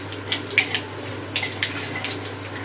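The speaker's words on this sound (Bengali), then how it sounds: "ফোড়নটা একটু তেলে ভেজে নেব।" Dried red chilli, bay leaf and black cumin fry in hot oil in a pan, giving a soft sizzle broken by a few sharp clinks of a spoon stirring, close up with no talking.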